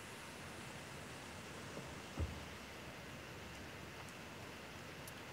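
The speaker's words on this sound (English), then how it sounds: "I got that rain you were talking about, Matt." Rain falling in the Minecraft game, a steady faint hiss of even noise with no talk and a single brief soft thump partway through.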